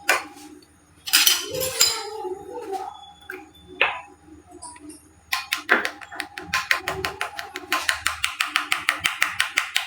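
A utensil clinks and taps against a bowl while a homemade jelly mixture is stirred, first in scattered knocks and then in a fast, even run of close, bright clinks.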